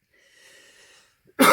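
A person with a cold gives one sudden, loud, close cough that bursts out after a second of faint, wheezy breathing and is cut off abruptly.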